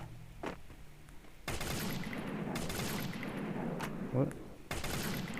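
Video game gunfire aimed at bots rings out in a continuous, noisy rapid burst through most of the stretch, stopping briefly near the end before resuming.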